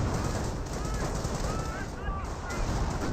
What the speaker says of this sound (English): now 25 pounders raining on it